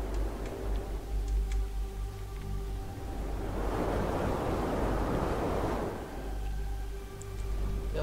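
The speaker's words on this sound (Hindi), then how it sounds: "यहाँ पर हवा चलता ही रहता है" Steady wind howls through the snowy landscape of the video game Never Alone, a continuous breathy rush that swells louder in the middle and eases off again, with faint ticking game sounds along with it.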